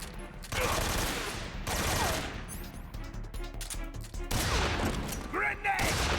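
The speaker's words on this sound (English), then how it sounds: "God, the sound design on that shotgun is awesome" Shotgun blasts in Metal Gear Solid 3, several loud booming shots with sharp onsets and decaying tails spaced through the stretch, mixed with other gunfire and game effects.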